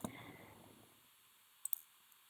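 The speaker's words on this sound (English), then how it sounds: "I'm clicking OK" A computer mouse is clicked during work in MagiCAD design software, with two faint, crisp clicks in quick succession against near silence.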